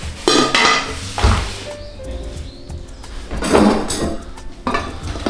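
Metal pots and lids, including a copper pot and an enamel pot, clank and scrape as they are handled, with several sharp knocks and rattles close by, no talking.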